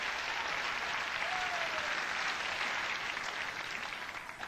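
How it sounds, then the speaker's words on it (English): Studio audience applause at a 1990 late-night television talk show taping, a dense, steady wash of many hands clapping that holds evenly for several seconds before easing slightly at the end, with no talk over it. "More applause."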